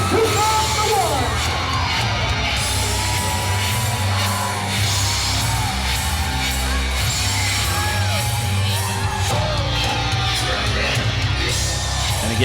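A hometown crowd at a Red Rock Wrestling match in Stratford Town Hall cheers and yells steadily, whoops and shouts rising over a loud, dense roar that never lets up.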